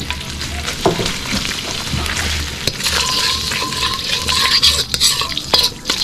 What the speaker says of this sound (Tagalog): Mag-i-start na tayo mag-gisa niyan mga kasolid